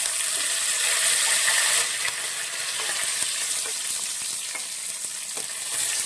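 Dried red chillies and curry leaves added after mustard seeds pop, sizzling and crackling in hot oil for ladies' finger curry, a steady loud fry with scattered sharp pops and occasional stirring scrapes, no voices.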